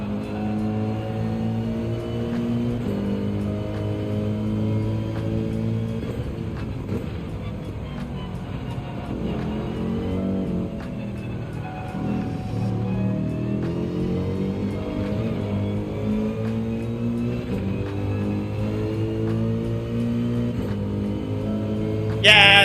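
A Mercedes race car engine in Gran Turismo 7 drones steadily through a race at Dragon Trail Gardens, its pitch rising and falling through gear changes and corners, loud and continuous from start to finish.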